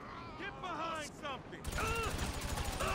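Gunfire in GTA 5 Online as a mission firefight breaks out, a rapid, dense burst of automatic shots coming in partway through, with someone talking over the action.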